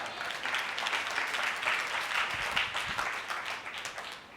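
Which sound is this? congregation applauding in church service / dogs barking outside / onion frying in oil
congregation applauding in church service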